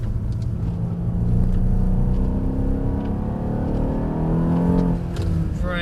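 An AMG car powers through a wet corner, its engine a steady close rumble with rising revs under acceleration, heard alone without talk.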